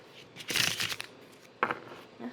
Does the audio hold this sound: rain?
no